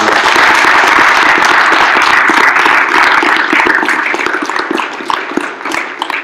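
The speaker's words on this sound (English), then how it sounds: "let's give a round of applause for being here" An audience of college attendees applauds Vietnam veterans at Seward County Community College, a loud, dense burst of many hands clapping together that slowly thins and fades toward the end.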